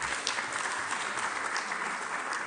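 Steady audience applause at an event in Trinidad and Tobago, a dense continuous patter of many hands clapping at moderate distance throughout, with no voices over it.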